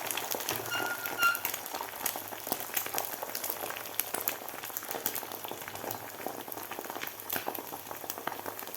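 Beaten egg mixture for an egg roll sizzles in a hot pan, giving a steady, faint crackle with scattered pops and spits throughout.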